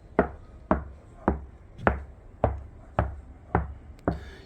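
Eight sharp fingertip taps on a car door panel, evenly spaced, each a clear resonant knock with a short ring, close and fairly loud.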